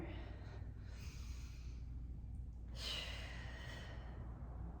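A person breathing during a core and hip stability exercise, with a long slow inhale followed by a stronger audible exhale, close and fairly quiet.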